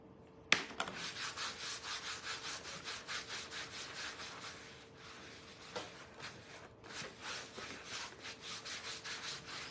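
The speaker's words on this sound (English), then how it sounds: "we're just gonna rub it over the whole pumpkin" Wax rubbed by applicator over the whole surface of a painted pumpkin, a steady rhythmic scrubbing with repeated strokes, close and fairly quiet, one sharp knock near the start.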